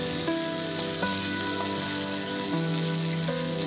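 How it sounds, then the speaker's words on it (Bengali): Chopped ginger, potato and spices fry in hot oil, giving a continuous, dense sizzle under steady background music. "আদা কুচিটাও একটু ভালো করে ভেজে নিতে হবে বন্ধুরা"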